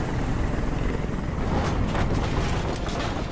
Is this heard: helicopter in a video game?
yes